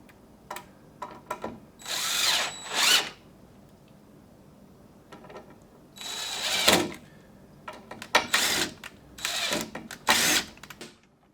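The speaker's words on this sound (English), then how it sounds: "I'm going to pre-drill these so that way I can have it like that already ready" A power drill pre-drills holes in wood for a sheep shelter, whining loudly and up close in about five short bursts separated by quiet pauses.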